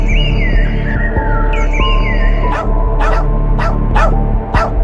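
A pack of dogs barks in a burst of repeated sharp barks near the end, with whimpering, yipping and a rising whine beforehand over a low steady hum.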